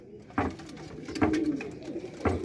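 Several domestic pigeons cooing in soft, low bursts at a keeper's loft, three distinct coos spaced apart and fairly close.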